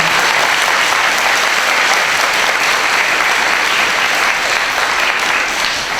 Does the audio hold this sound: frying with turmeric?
no